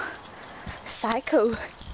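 A Chihuahua lets out brief, high whimpers and whines close by, in short bursts over a quiet background.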